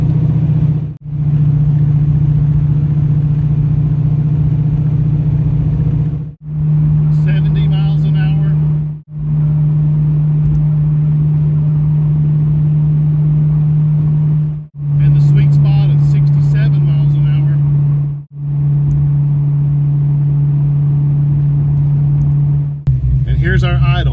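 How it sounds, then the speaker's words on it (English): Fox Body Mustang fitted with a FlowMaster Super 44 exhaust cruising at 55 mph, a loud steady low drone with road rumble that holds throughout, broken by a few brief dropouts. "let's fire up the Super 44s and see just how much noise punishment they deliver"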